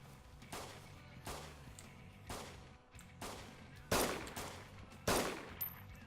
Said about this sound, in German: Ich schieße da hinten auf jemanden